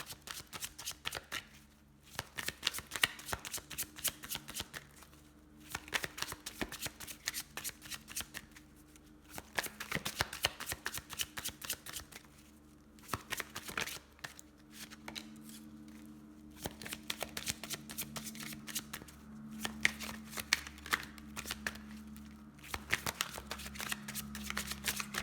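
Tarot cards are shuffled by hand for a reading, repeated riffling bursts of crisp flutter and slaps in a steady rhythm with short pauses, close and fairly quiet, with no talk.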